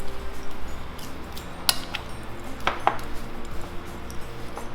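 Cookie dough with sprinkles and white chocolate is stirred in a bowl, giving soft continuous scraping with a few bright clinks of a utensil against the bowl, close and moderately quiet.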